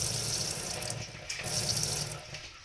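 Water runs steadily from a kitchen tap fitted with a homemade attachment, a continuous hissing splash into the sink that stays at an even, close level with no talking.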